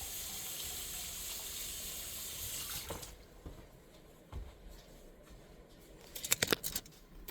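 A kitchen tap runs water over hands at the sink while baking buttermilk biscuits, a steady close stream that stops, followed by quieter drips, splashes and a burst of spattering near the end.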